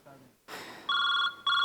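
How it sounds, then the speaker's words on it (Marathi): A telephone rings on a comedy sketch stage, two loud electronic ringing bursts with a short gap between them, coming right after a brief stretch of voice and a thump. "परत रिंग वाजते भाई, रिंग वाजते."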